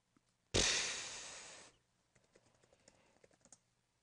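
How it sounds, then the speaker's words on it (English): Fast typing on a computer keyboard while setting up a Terraria server, a burst of quick clicks followed by scattered lighter key taps, close and clear with no talk. "I failed at typing"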